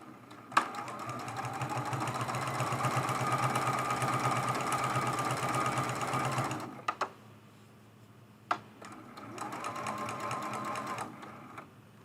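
A sewing machine runs in a steady rapid whir for several seconds, stops with a few clicks, then starts again briefly.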